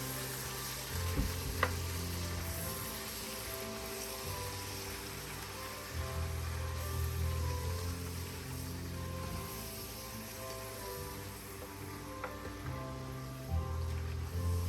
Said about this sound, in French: Je vais mélanger tout ça ensemble.